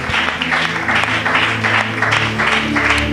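A church congregation breaking into sustained applause and clapping, a dense, loud wash of many hands with pulsing swells, heard close in a reverberant hall.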